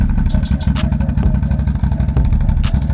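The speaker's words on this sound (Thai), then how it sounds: "ก็ตัวนี้จะเป็นเครื่องยนต์สูบวี สูบวีสองสูบนะครับ" A 300cc two-cylinder V-twin X-Land ATV engine idles loudly up close, its low, throbbing chug pulsing steadily and unbroken, with faint mechanical clatter on top.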